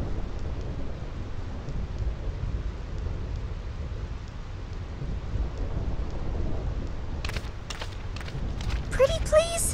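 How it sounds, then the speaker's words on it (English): A constant downpour hisses with low thunder rumbling through it in the stormy Thunder Plains area of the game Final Fantasy X HD Remaster, and voices come in near the end. "This storm never stops."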